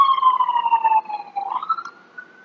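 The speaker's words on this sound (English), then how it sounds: "Apologize about these police sirens." Police car sirens wailing in the distance, a clear descending tone that dips and then rises again, moderately loud against an otherwise quiet background.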